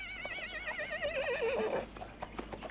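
A horse neighs loudly in a long, wavering whinny, followed by a few soft hoof-like taps.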